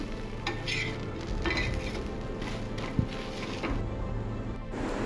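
A dosa made from black kavuni rice batter ground with toor and moong dal is flipped on a hot pan: a steady sizzle with scraping of the turner and one sharp tap midway.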